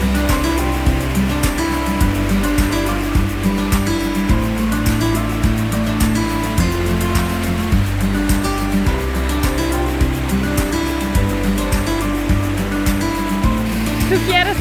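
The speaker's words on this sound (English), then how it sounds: "Finally, I could swim in a natural rainforest river, which I always wanted to do." A natural rainforest river in Costa Rica flowing steadily, a continuous close rushing wash of water with no pauses.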